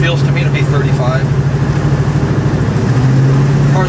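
A 1967 Chevrolet Camaro engine hums steadily from inside the car while cruising at about 35 mph, a constant low drone with faint road noise throughout.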